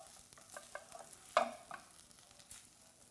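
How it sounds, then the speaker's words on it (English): A spoon scrapes the bottom of a pot of stew set to simmer, giving faint scattered scraping strokes and one sharper clunk midway over a quiet background. "I want to get the rest, sort of scrape that there like such."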